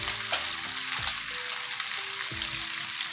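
Bangladeshi koi fish frying in mustard oil: a dense, constant hiss of hot oil, with occasional soft knocks and scrapes from a utensil in the pan, and no voices.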